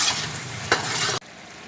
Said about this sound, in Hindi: अच्छे तरीके से मिक्स करते हैं।